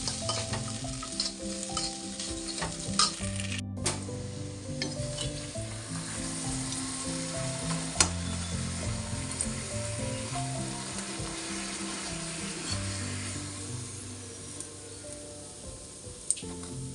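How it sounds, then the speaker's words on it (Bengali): Luchi fry in hot oil with a steady, bubbling sizzle, broken by brief scraping and clinking of utensils, moderately loud and close. "এদিকে লুচিগুলো ভাজতে থাকি।"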